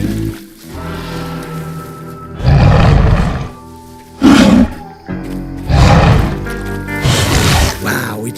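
A Spinosaurus roar effect from the Wild Kratts cartoon bursts out in four loud, rough, drawn-out blasts, each a second or so long, separated by quieter gaps with tonal backing sound.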